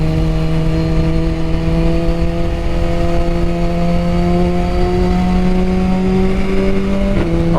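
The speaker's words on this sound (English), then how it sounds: "you're rolling through the gears, come off the gas, you should feel it slow down a little bit" A 2022 Suzuki Hayabusa motorcycle engine holds a loud, steady drone at high revs, easing in pitch as it comes off the throttle into engine braking, with a short shift-like blip near the end; no talking.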